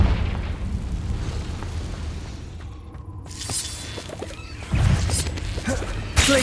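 The Confringo blasting spell erupts in Hogwarts Legacy combat, with crashing, booming impacts and rumbling debris layered over continuous game noise and a couple of sharp louder hits.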